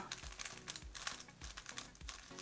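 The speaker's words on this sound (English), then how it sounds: "And the turning is just a lot more substantial too." Soft, rapid clacking of a Valk Power speed cube being turned, quick bursts of plastic clicks in an uneven rhythm, close but quiet, with no voices.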